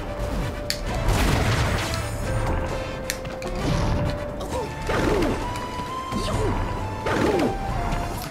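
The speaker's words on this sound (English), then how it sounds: "Oh god, more bomb." Repeated bomb explosions and crashing impacts in Super Smash Bros. Brawl's Subspace Emissary, arriving in several loud bursts over a busy game soundtrack and clattering mechanical effects.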